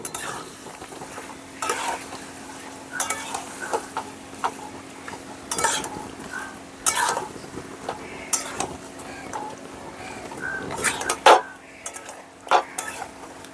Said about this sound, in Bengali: ভালো করে কষিয়ে নেব মাংসটাকে